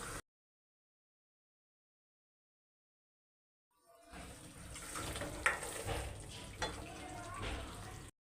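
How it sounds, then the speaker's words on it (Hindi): Masala for Afghani kofta sizzles in oil in a half-covered pan, a steady frying hiss that starts partway through after near silence, with a few louder pops and clatters close by. "इसका तेल ऊपर आ जाएगा, तब तक इसे भून दें।"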